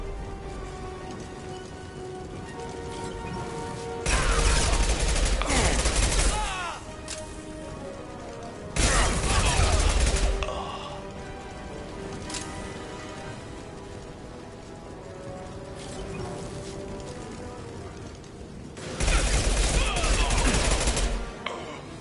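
Repeated rattling bursts of impact-shot gunfire in Mass Effect 2, three loud sustained volleys spaced several seconds apart over a continuous battle background.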